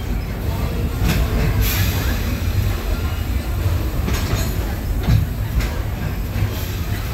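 An amusement ride train rumbles steadily along with continuous low roar and occasional sharp metallic clicks and squeals, enclosed and echoing in a tunnel.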